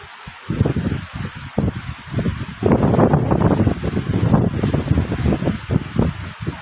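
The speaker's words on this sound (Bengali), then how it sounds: "ঝপঝপ ঝপঝপ করে বৃষ্টি শুরু হয়ে গেছে বৃষ্টি মানে পড়ছে" Heavy rain pours down onto a street, a dense, steady wash of hiss and patter that swells noticeably louder a few seconds in and stays strong to the end.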